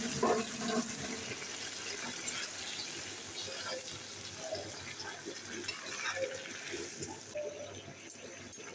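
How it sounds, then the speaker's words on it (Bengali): Liquid broth poured into a pan of okra cooked with mustard, a steady close rushing and splashing pour that continues throughout, with faint sizzling and a voice speaking quietly underneath. "এবার আমি একটু ঝোল দিয়ে দিচ্ছি।"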